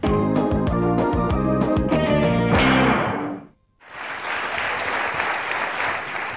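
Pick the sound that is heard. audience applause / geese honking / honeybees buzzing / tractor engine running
audience applause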